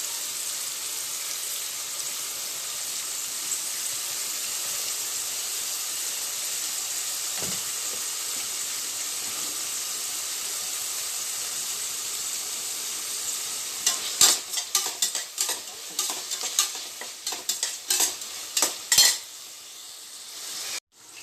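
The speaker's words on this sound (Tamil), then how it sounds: "இந்த பக்கமாக 65 மாதிரி பொரிக்கிறேன் பாருங்கள்." Soya chunks, or meal maker, deep fry in hot oil with a steady close sizzle, then crackle and spatter in bursts as they are stirred toward the end.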